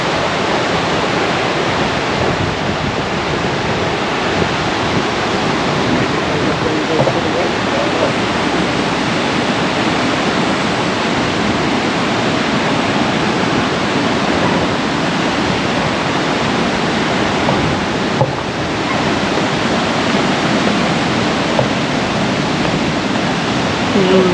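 A big waterfall in the Porcupine Mountains, seen from a swinging bridge, pours as a loud, steady, broadband roar that fills the whole stretch without a break.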